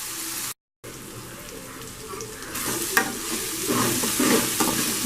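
Ginger garlic paste frying in a hot pan for crab masala, a steady broadband sizzle that grows louder toward the end, with occasional soft scrapes and a brief dropout early on.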